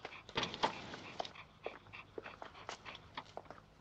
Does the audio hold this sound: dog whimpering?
yes